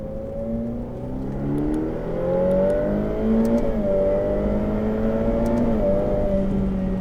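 A Ferrari F8 Tributo circles the Le Mans Maison Blanche track on light throttle at a steady speed, its engine giving a continuous, close, smooth drone with only slight rises and dips in pitch.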